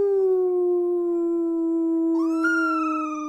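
A dog gives one long sustained howl, loud and close, its pitch sliding slightly and rising near the end before tapering off.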